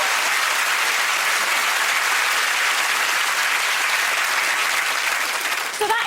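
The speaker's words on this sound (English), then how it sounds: "Let's give him a round of applause." Sustained applause from a television studio audience, dense clapping throughout, trailing off slightly at the end.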